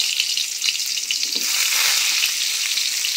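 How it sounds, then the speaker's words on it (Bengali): Thickly cut, washed bitter gourd pieces fry in hot mustard oil in a wok, a loud, dense, close hiss of sizzling that holds steady with faint stirring underneath. "তেলটা গরম হয়ে গেছে, এবার কেটে ধুয়ে রাখা করলাগুলো ভেজে নেব।"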